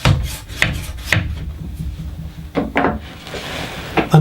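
Repeated short rasping strokes of abrasive rubbing on wood, uneven bursts with brief pauses between them, close up.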